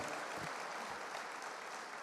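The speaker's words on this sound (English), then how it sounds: "let's give them one more round of applause" Applause for students at a school leadership breakfast, a brief burst of dense clapping from a crowd at moderate distance, filling the whole moment without voices.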